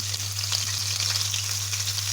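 Steady sizzling of chopped onions frying in hot oil for Chettinad chicken curry, a constant crackling hiss close by with a low hum underneath.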